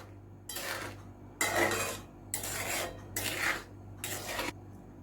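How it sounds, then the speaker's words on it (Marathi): Paneer being stirred into tomato gravy in a pan for matar paneer, five separate bursts of scraping and rubbing against the metal, each lasting about half a second, close and clear with no talking. "आपण मिक्स करूया."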